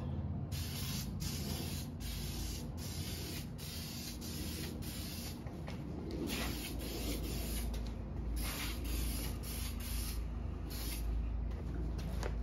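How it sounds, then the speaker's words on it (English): Repeated short bursts of an aerosol spray paint can hissing in a steady rhythm while coating a wheel rim, close up, with no talking. "You don't got to spray a lot of this stuff, just an even coat all around"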